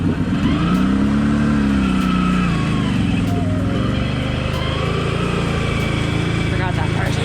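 A 2022 Can-Am Outlander 570 XMR ATV revs in mud, its mid-pitched engine rising and falling in swells close by, with voices talking over it.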